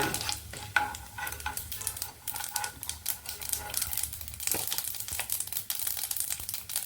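Cumin and mustard seeds sizzle in hot oil for a tempering, a dense close crackle with frequent sharp pops and spits running steadily throughout, with no voices.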